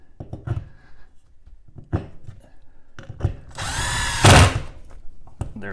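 A power drill with a new Milwaukee bit drives a screw into drywall while a Ford mobile EV charger is mounted: two short whirring bursts, the second louder and sustained, between quiet handling noises.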